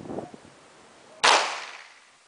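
A single sharp handgun shot cracks close by and leaves a decaying echo, preceded by faint background chatter.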